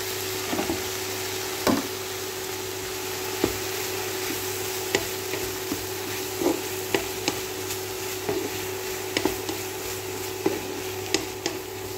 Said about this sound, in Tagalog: Golden brown lang din natin yung mushroom.